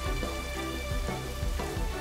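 Steady rain falls in the video game Dynasty Warriors 7, a dense continuous patter under a sustained musical score, with a few low thuds rising through it.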